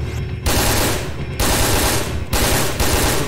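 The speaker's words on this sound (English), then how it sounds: "Fong Ling, who has an assault rifle, which feels pretty good to mow down zombies with" Sustained bursts of assault rifle fire cutting down zombies in Resident Evil Dead Aim, three loud, dense automatic volleys separated by brief pauses, close and alone with no talk.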